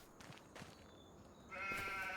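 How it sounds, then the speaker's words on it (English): Baby sheep in the Farming Simulator 25 video game bleat in short, fairly faint calls over low farm ambience, ending in one louder, longer bleat. "We should have some baby sheep and some baby goats."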